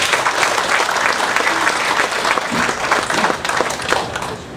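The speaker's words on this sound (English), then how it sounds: "Round of applause." Audience at a military college open forum with a US Navy admiral giving sustained, full applause, a steady wash of many hands clapping that holds for several seconds without talk.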